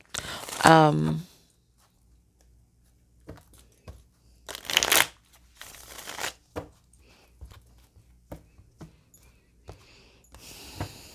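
Tarot cards being shuffled in brief crisp riffles and soft slaps, a few quick bursts separated by quiet gaps, close by, with a person speaking between them.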